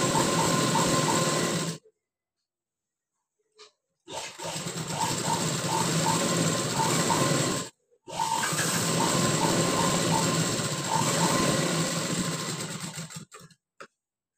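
A sewing machine double-stitches the collar of a high-neck blouse in fast, steady runs, stopping twice for pauses of about two seconds before whirring on again, close and loud with no talk.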